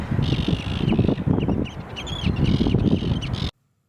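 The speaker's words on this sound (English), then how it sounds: "all these jerk seagulls keep swooping me" Seagulls on the Atlantic coast near seabird nesting areas give repeated harsh, overlapping cries close by over a continuous windy, rumbling outdoor background that cuts off abruptly.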